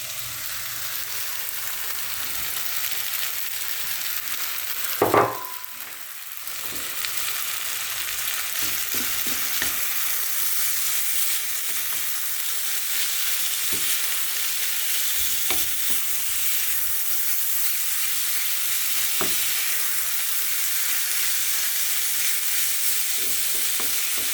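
Garlic and vegetables fry in a pan with a loud, continuous sizzle and hiss that lasts throughout. One sharp clatter of utensil on pan sounds early, and a few faint taps follow.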